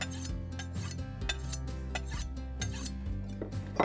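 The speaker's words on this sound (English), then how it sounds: "I'm going to sharpen a little on the finer ceramic." A kitchen knife is drawn across a fine ceramic sharpener in quick repeated rasping strokes, each a short gritty scrape with faint metallic ringing, close up and fairly quiet.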